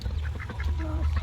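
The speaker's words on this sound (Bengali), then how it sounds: "হ্যাঁ হাঁস।" Ducks quacking outdoors: a brief burst of nasal quacks over a low, steady rumble of background noise.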